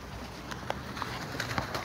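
Pigeons coo softly outdoors with a few brief flutters and calls scattered over a steady background hum, faint and at middle distance.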